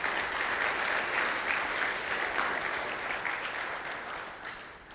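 A conference audience at the ICFP general chair report gives a steady round of applause, a dense wash of many hands clapping at full strength before tapering slightly at the end, with no voices over it.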